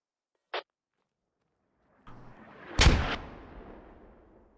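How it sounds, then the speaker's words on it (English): Mortar rounds in a military video game: a short sharp tick, then a rising rush and a loud booming impact that rolls off into a fading rumble, with no talk. "Impressed with the mortars so far."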